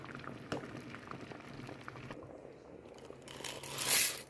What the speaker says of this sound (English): Now we're gonna let that boil.